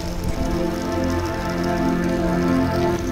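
Rain falls steadily in Qatar, a constant close patter of drops on a surface with a low background hum throughout.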